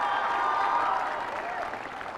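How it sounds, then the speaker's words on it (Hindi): A school audience at Jawahar Vidya Mandir in Ranchi breaks into loud applause welcoming cricketer Virender Sehwag, a dense burst of clapping that swells and then slowly thins, with a host's voice mixed in. "जोरदार तालियों के साथ स्वागत करें वीरेंद्र सहवाग"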